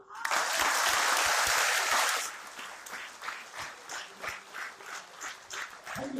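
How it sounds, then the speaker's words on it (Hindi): An audience at a live session claps for itself. A loud, dense burst of applause lasts about two seconds, then settles into slower, rhythmic clapping that carries on at a steady beat. "एक बार अपने लिए तालियां बजाओ।"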